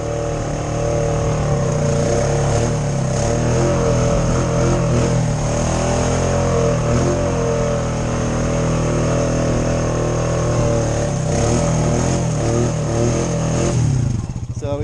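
A Jeep Wrangler Rubicon with a snorkel and reduction gearing drives an off-road run in two-wheel drive, its engine droning loud and steady close by, with a brief surge near the end.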